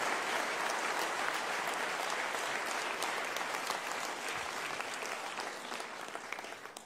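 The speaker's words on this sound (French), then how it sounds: "Je crois qu'on peut vous applaudir." Dense, sustained applause from an audience at the France Digitale Day tech event launch, steady and full for the whole stretch, tapering slightly toward the end, with no voices over it.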